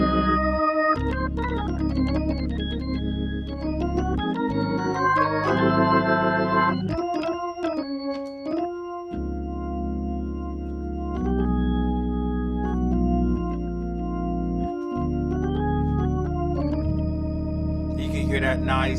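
A Viscount organ runs through a rotary Leslie speaker plugin, playing sustained chords and runs that swell and waver, with a low motor hum underneath, loud and close.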